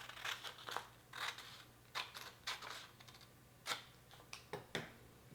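Small knife or cutter clicks and scrapes while cutting a white and black fondant-style piece for a Stormtrooper helmet cake, a series of close, soft, irregular ticks and taps with no talking.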